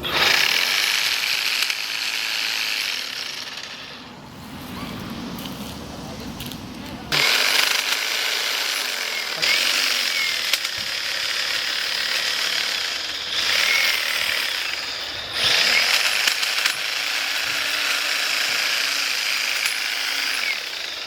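An EGO Power+ cordless hedge trimmer cutting tree branches outdoors, a loud buzzing reciprocating blade in repeated bursts with short pauses between cuts.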